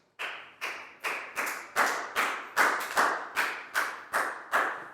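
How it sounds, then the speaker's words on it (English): Small group in a primary school English lesson clapping for a student: about a dozen distinct, evenly spaced claps in a steady rhythm, close and fairly loud. "High five and a big round of applause for Nadia."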